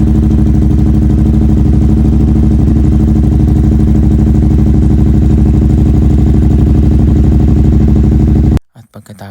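A Yamaha R7 motorcycle idles after being started, a loud, steady, close-up engine drone with a fine pulsing rhythm that holds evenly before cutting off abruptly near the end.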